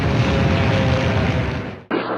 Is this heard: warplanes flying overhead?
yes